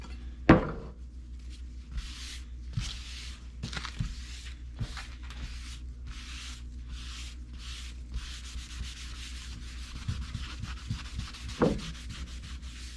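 Gel coat on a fiberglass boat being sanded with 80 grit sandpaper, a steady scratchy rubbing in repeated strokes with a sharp knock near the start, heard up close with no talking.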